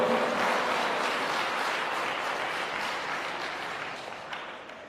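Congregation at a church service applauding, a steady dense wash of clapping that holds for the whole stretch and slowly tapers toward the end, no voices on top.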